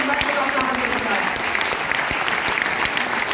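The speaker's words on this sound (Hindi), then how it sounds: "तो ताली उसके लिए बजाओ भाई" An audience at a Vestige business training event claps for the event's sponsor, a dense, steady applause filling the hall with sharp individual claps standing out, a speaker's voice faintly mixed in.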